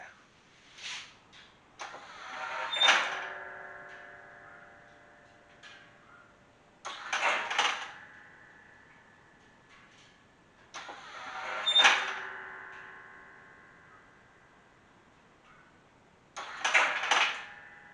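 Pop-up headlights on a C3 Corvette after a headlight conversion, cycling through four repeated bursts of mechanical whirring and motor noise, each ending in a thunk, with quiet gaps between them and no talking.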